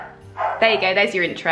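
A dog barks a few sharp, close bow-wows with a brief whimpering yip, overlapping a person talking nearby indoors.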